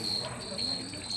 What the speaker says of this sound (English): I can hear running water and crickets and night birds